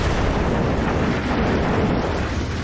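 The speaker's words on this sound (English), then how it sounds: "Every time I use the bomb I always mess up." Bomb explosion in the video game Deity: a loud, continuous broadband rumble and roar that holds steady throughout with no pauses.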